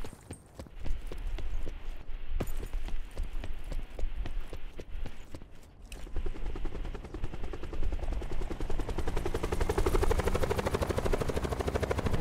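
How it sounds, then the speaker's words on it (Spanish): Helicopter in the video game Call of Duty Blackout, its rotor beating in a fast steady chop that grows into a loud, dense, continuous thrum, with sharp rapid gunfire-like cracks scattered through the first half. "Mira que helicóptero"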